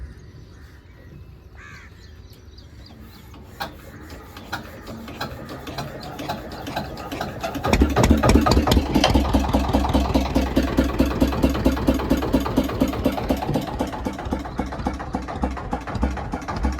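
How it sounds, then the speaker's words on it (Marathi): A generator starts with a few ratcheting pulls and clatters, then catches and runs with a loud, steady, rhythmic engine chug that holds for the rest of the clip. "मामा आता बघा जनरेटर चालू करते"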